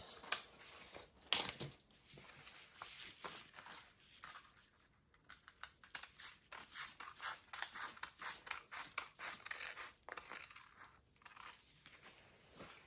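Scissors cutting fabric for a horseshoe neckline: quiet, close snipping and crisp fabric crunches in a steady, uneven rhythm, no talk.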